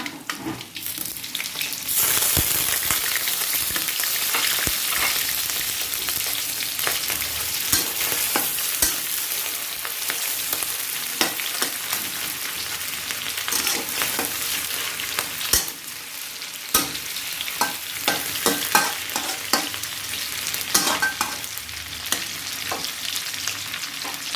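Steady, loud sizzling of shrimp and garlic stir-frying in a hot pan, with frequent scraping and clattering of a utensil throughout; no voices.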